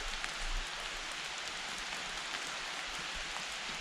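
Heavy rain pours steadily onto a tarp during a backpacking trip on the Grafton Loop, a dense, continuous roar of drumming drops with no pauses across the whole stretch.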